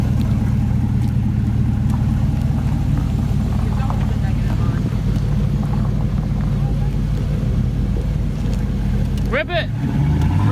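A 5.0 Ford Mustang engine rumbles loudly and steadily throughout, a deep continuous roar with voices talking over it and a brief rising whine near the end.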